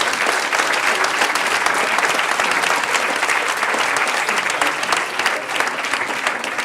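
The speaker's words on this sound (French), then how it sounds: "donc applaudissez-les aussi quand même tous." Conference audience at the RDVC event with Jean-Claude Trichet gives loud, dense, sustained applause, many hands clapping evenly for the whole stretch without a break.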